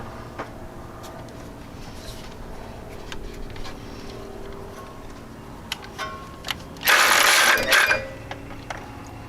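A ratchet works the belt tensioner on a 2000 Jeep Cherokee, giving sparse, sharp mechanical clicks close by, then a short, loud burst of rapid ratcheting near the end.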